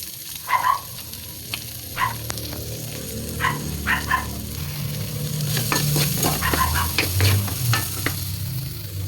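Carrots fry in a pan for a Filipino bottle gourd soup, with steady sizzling under repeated scraping stirs that bunch together toward the end. The sound is close and moderately loud.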